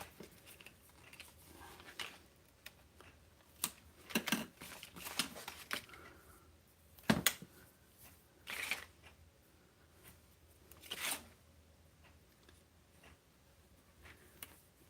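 Paper being cut with scissors for an Easter basket bunny sticky-note holder craft: quiet, sporadic snips and rustles at close range with short pauses between them, no speech.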